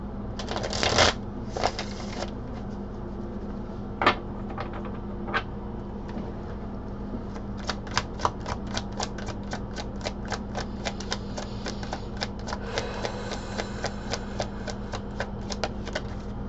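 Playing cards riffle and snap as they are shuffled repeatedly nearby, a few quick bursts followed by a long run of rapid clicking flicks.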